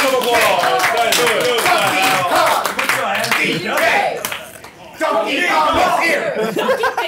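A crowd at a Super Smash Bros. 4 gaming tournament claps and cheers loudly, with excited shouts and laughter mixed into the applause, dipping briefly before swelling again.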